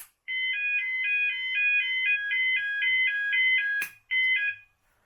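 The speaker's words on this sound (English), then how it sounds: "This Yodalarm's like got like fire alarm tones in it." A Yodalarm sounds its fire alarm tones: a quick run of about a dozen beeping pulses, a brief pause, then a few more pulses, loud and alone.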